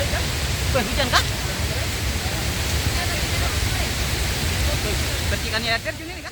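Dense, steady rushing spray from a swollen, muddy waterfall in the rainy season, roaring close and continuous, with faint whistles or voices briefly cutting through.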